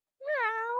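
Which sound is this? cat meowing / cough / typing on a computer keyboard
cat meowing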